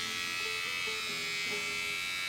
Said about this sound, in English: You can compare that to this other trimmer